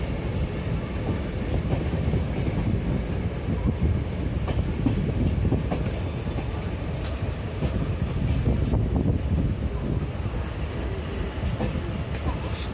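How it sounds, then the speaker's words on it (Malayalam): A train at Ernakulam railway junction, where WDG3A diesel engines stand, gives a steady, loud rumble of wheels and carriages that runs without a break throughout. "ഇഷ്ടം പോലെ ട്രെയിനുണ്ട്."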